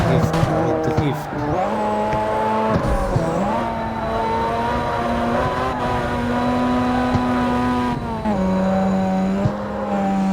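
Car drifting in the video game CarX Street, a loud, sustained engine drone shifting pitch with long tire squeals and skids throughout, close and dominant, a voice talking over it.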